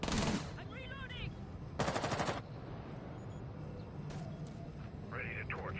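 Gunfire in a shooter video game, with short, loud bursts of automatic fire near the start and again around the two-second mark, then quieter scattered shots while players talk over it.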